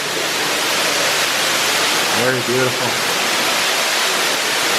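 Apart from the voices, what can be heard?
underground waterfall pouring inside Marvel Cave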